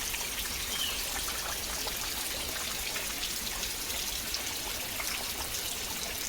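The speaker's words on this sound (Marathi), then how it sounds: "बघा किती जोरदार पाऊस चालू आहे" Steady, heavy rainfall in a thick forest gives an unbroken wash of pattering and trickling water, moderate in level and alone without speech.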